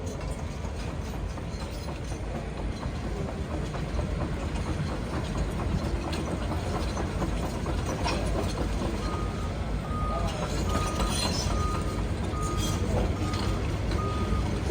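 A remotely driven DEVELON DX225CX excavator gives off repeated reversing beeps over a steady low engine rumble, heard at moderate distance amid general trade-show background noise.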